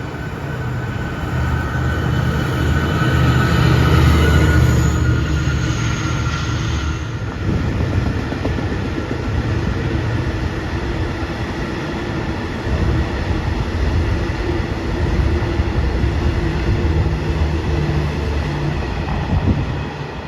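Thai southern special express train rolling along a curve at Taling Chan, heard close and loud: a continuous heavy rumble of wheels and carriages for the whole stretch, with a high squeal at first that fades as cars pass.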